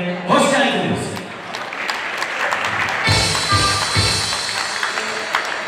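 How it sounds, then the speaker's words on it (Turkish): Wedding guests applaud at Elif and Enes's wedding ceremony, with a loud, sustained round of clapping that swells again midway, while a voice carries on talking over the crowd. "Umarım bu güzel alkışlarımız gece boyunca sürecektir efendim"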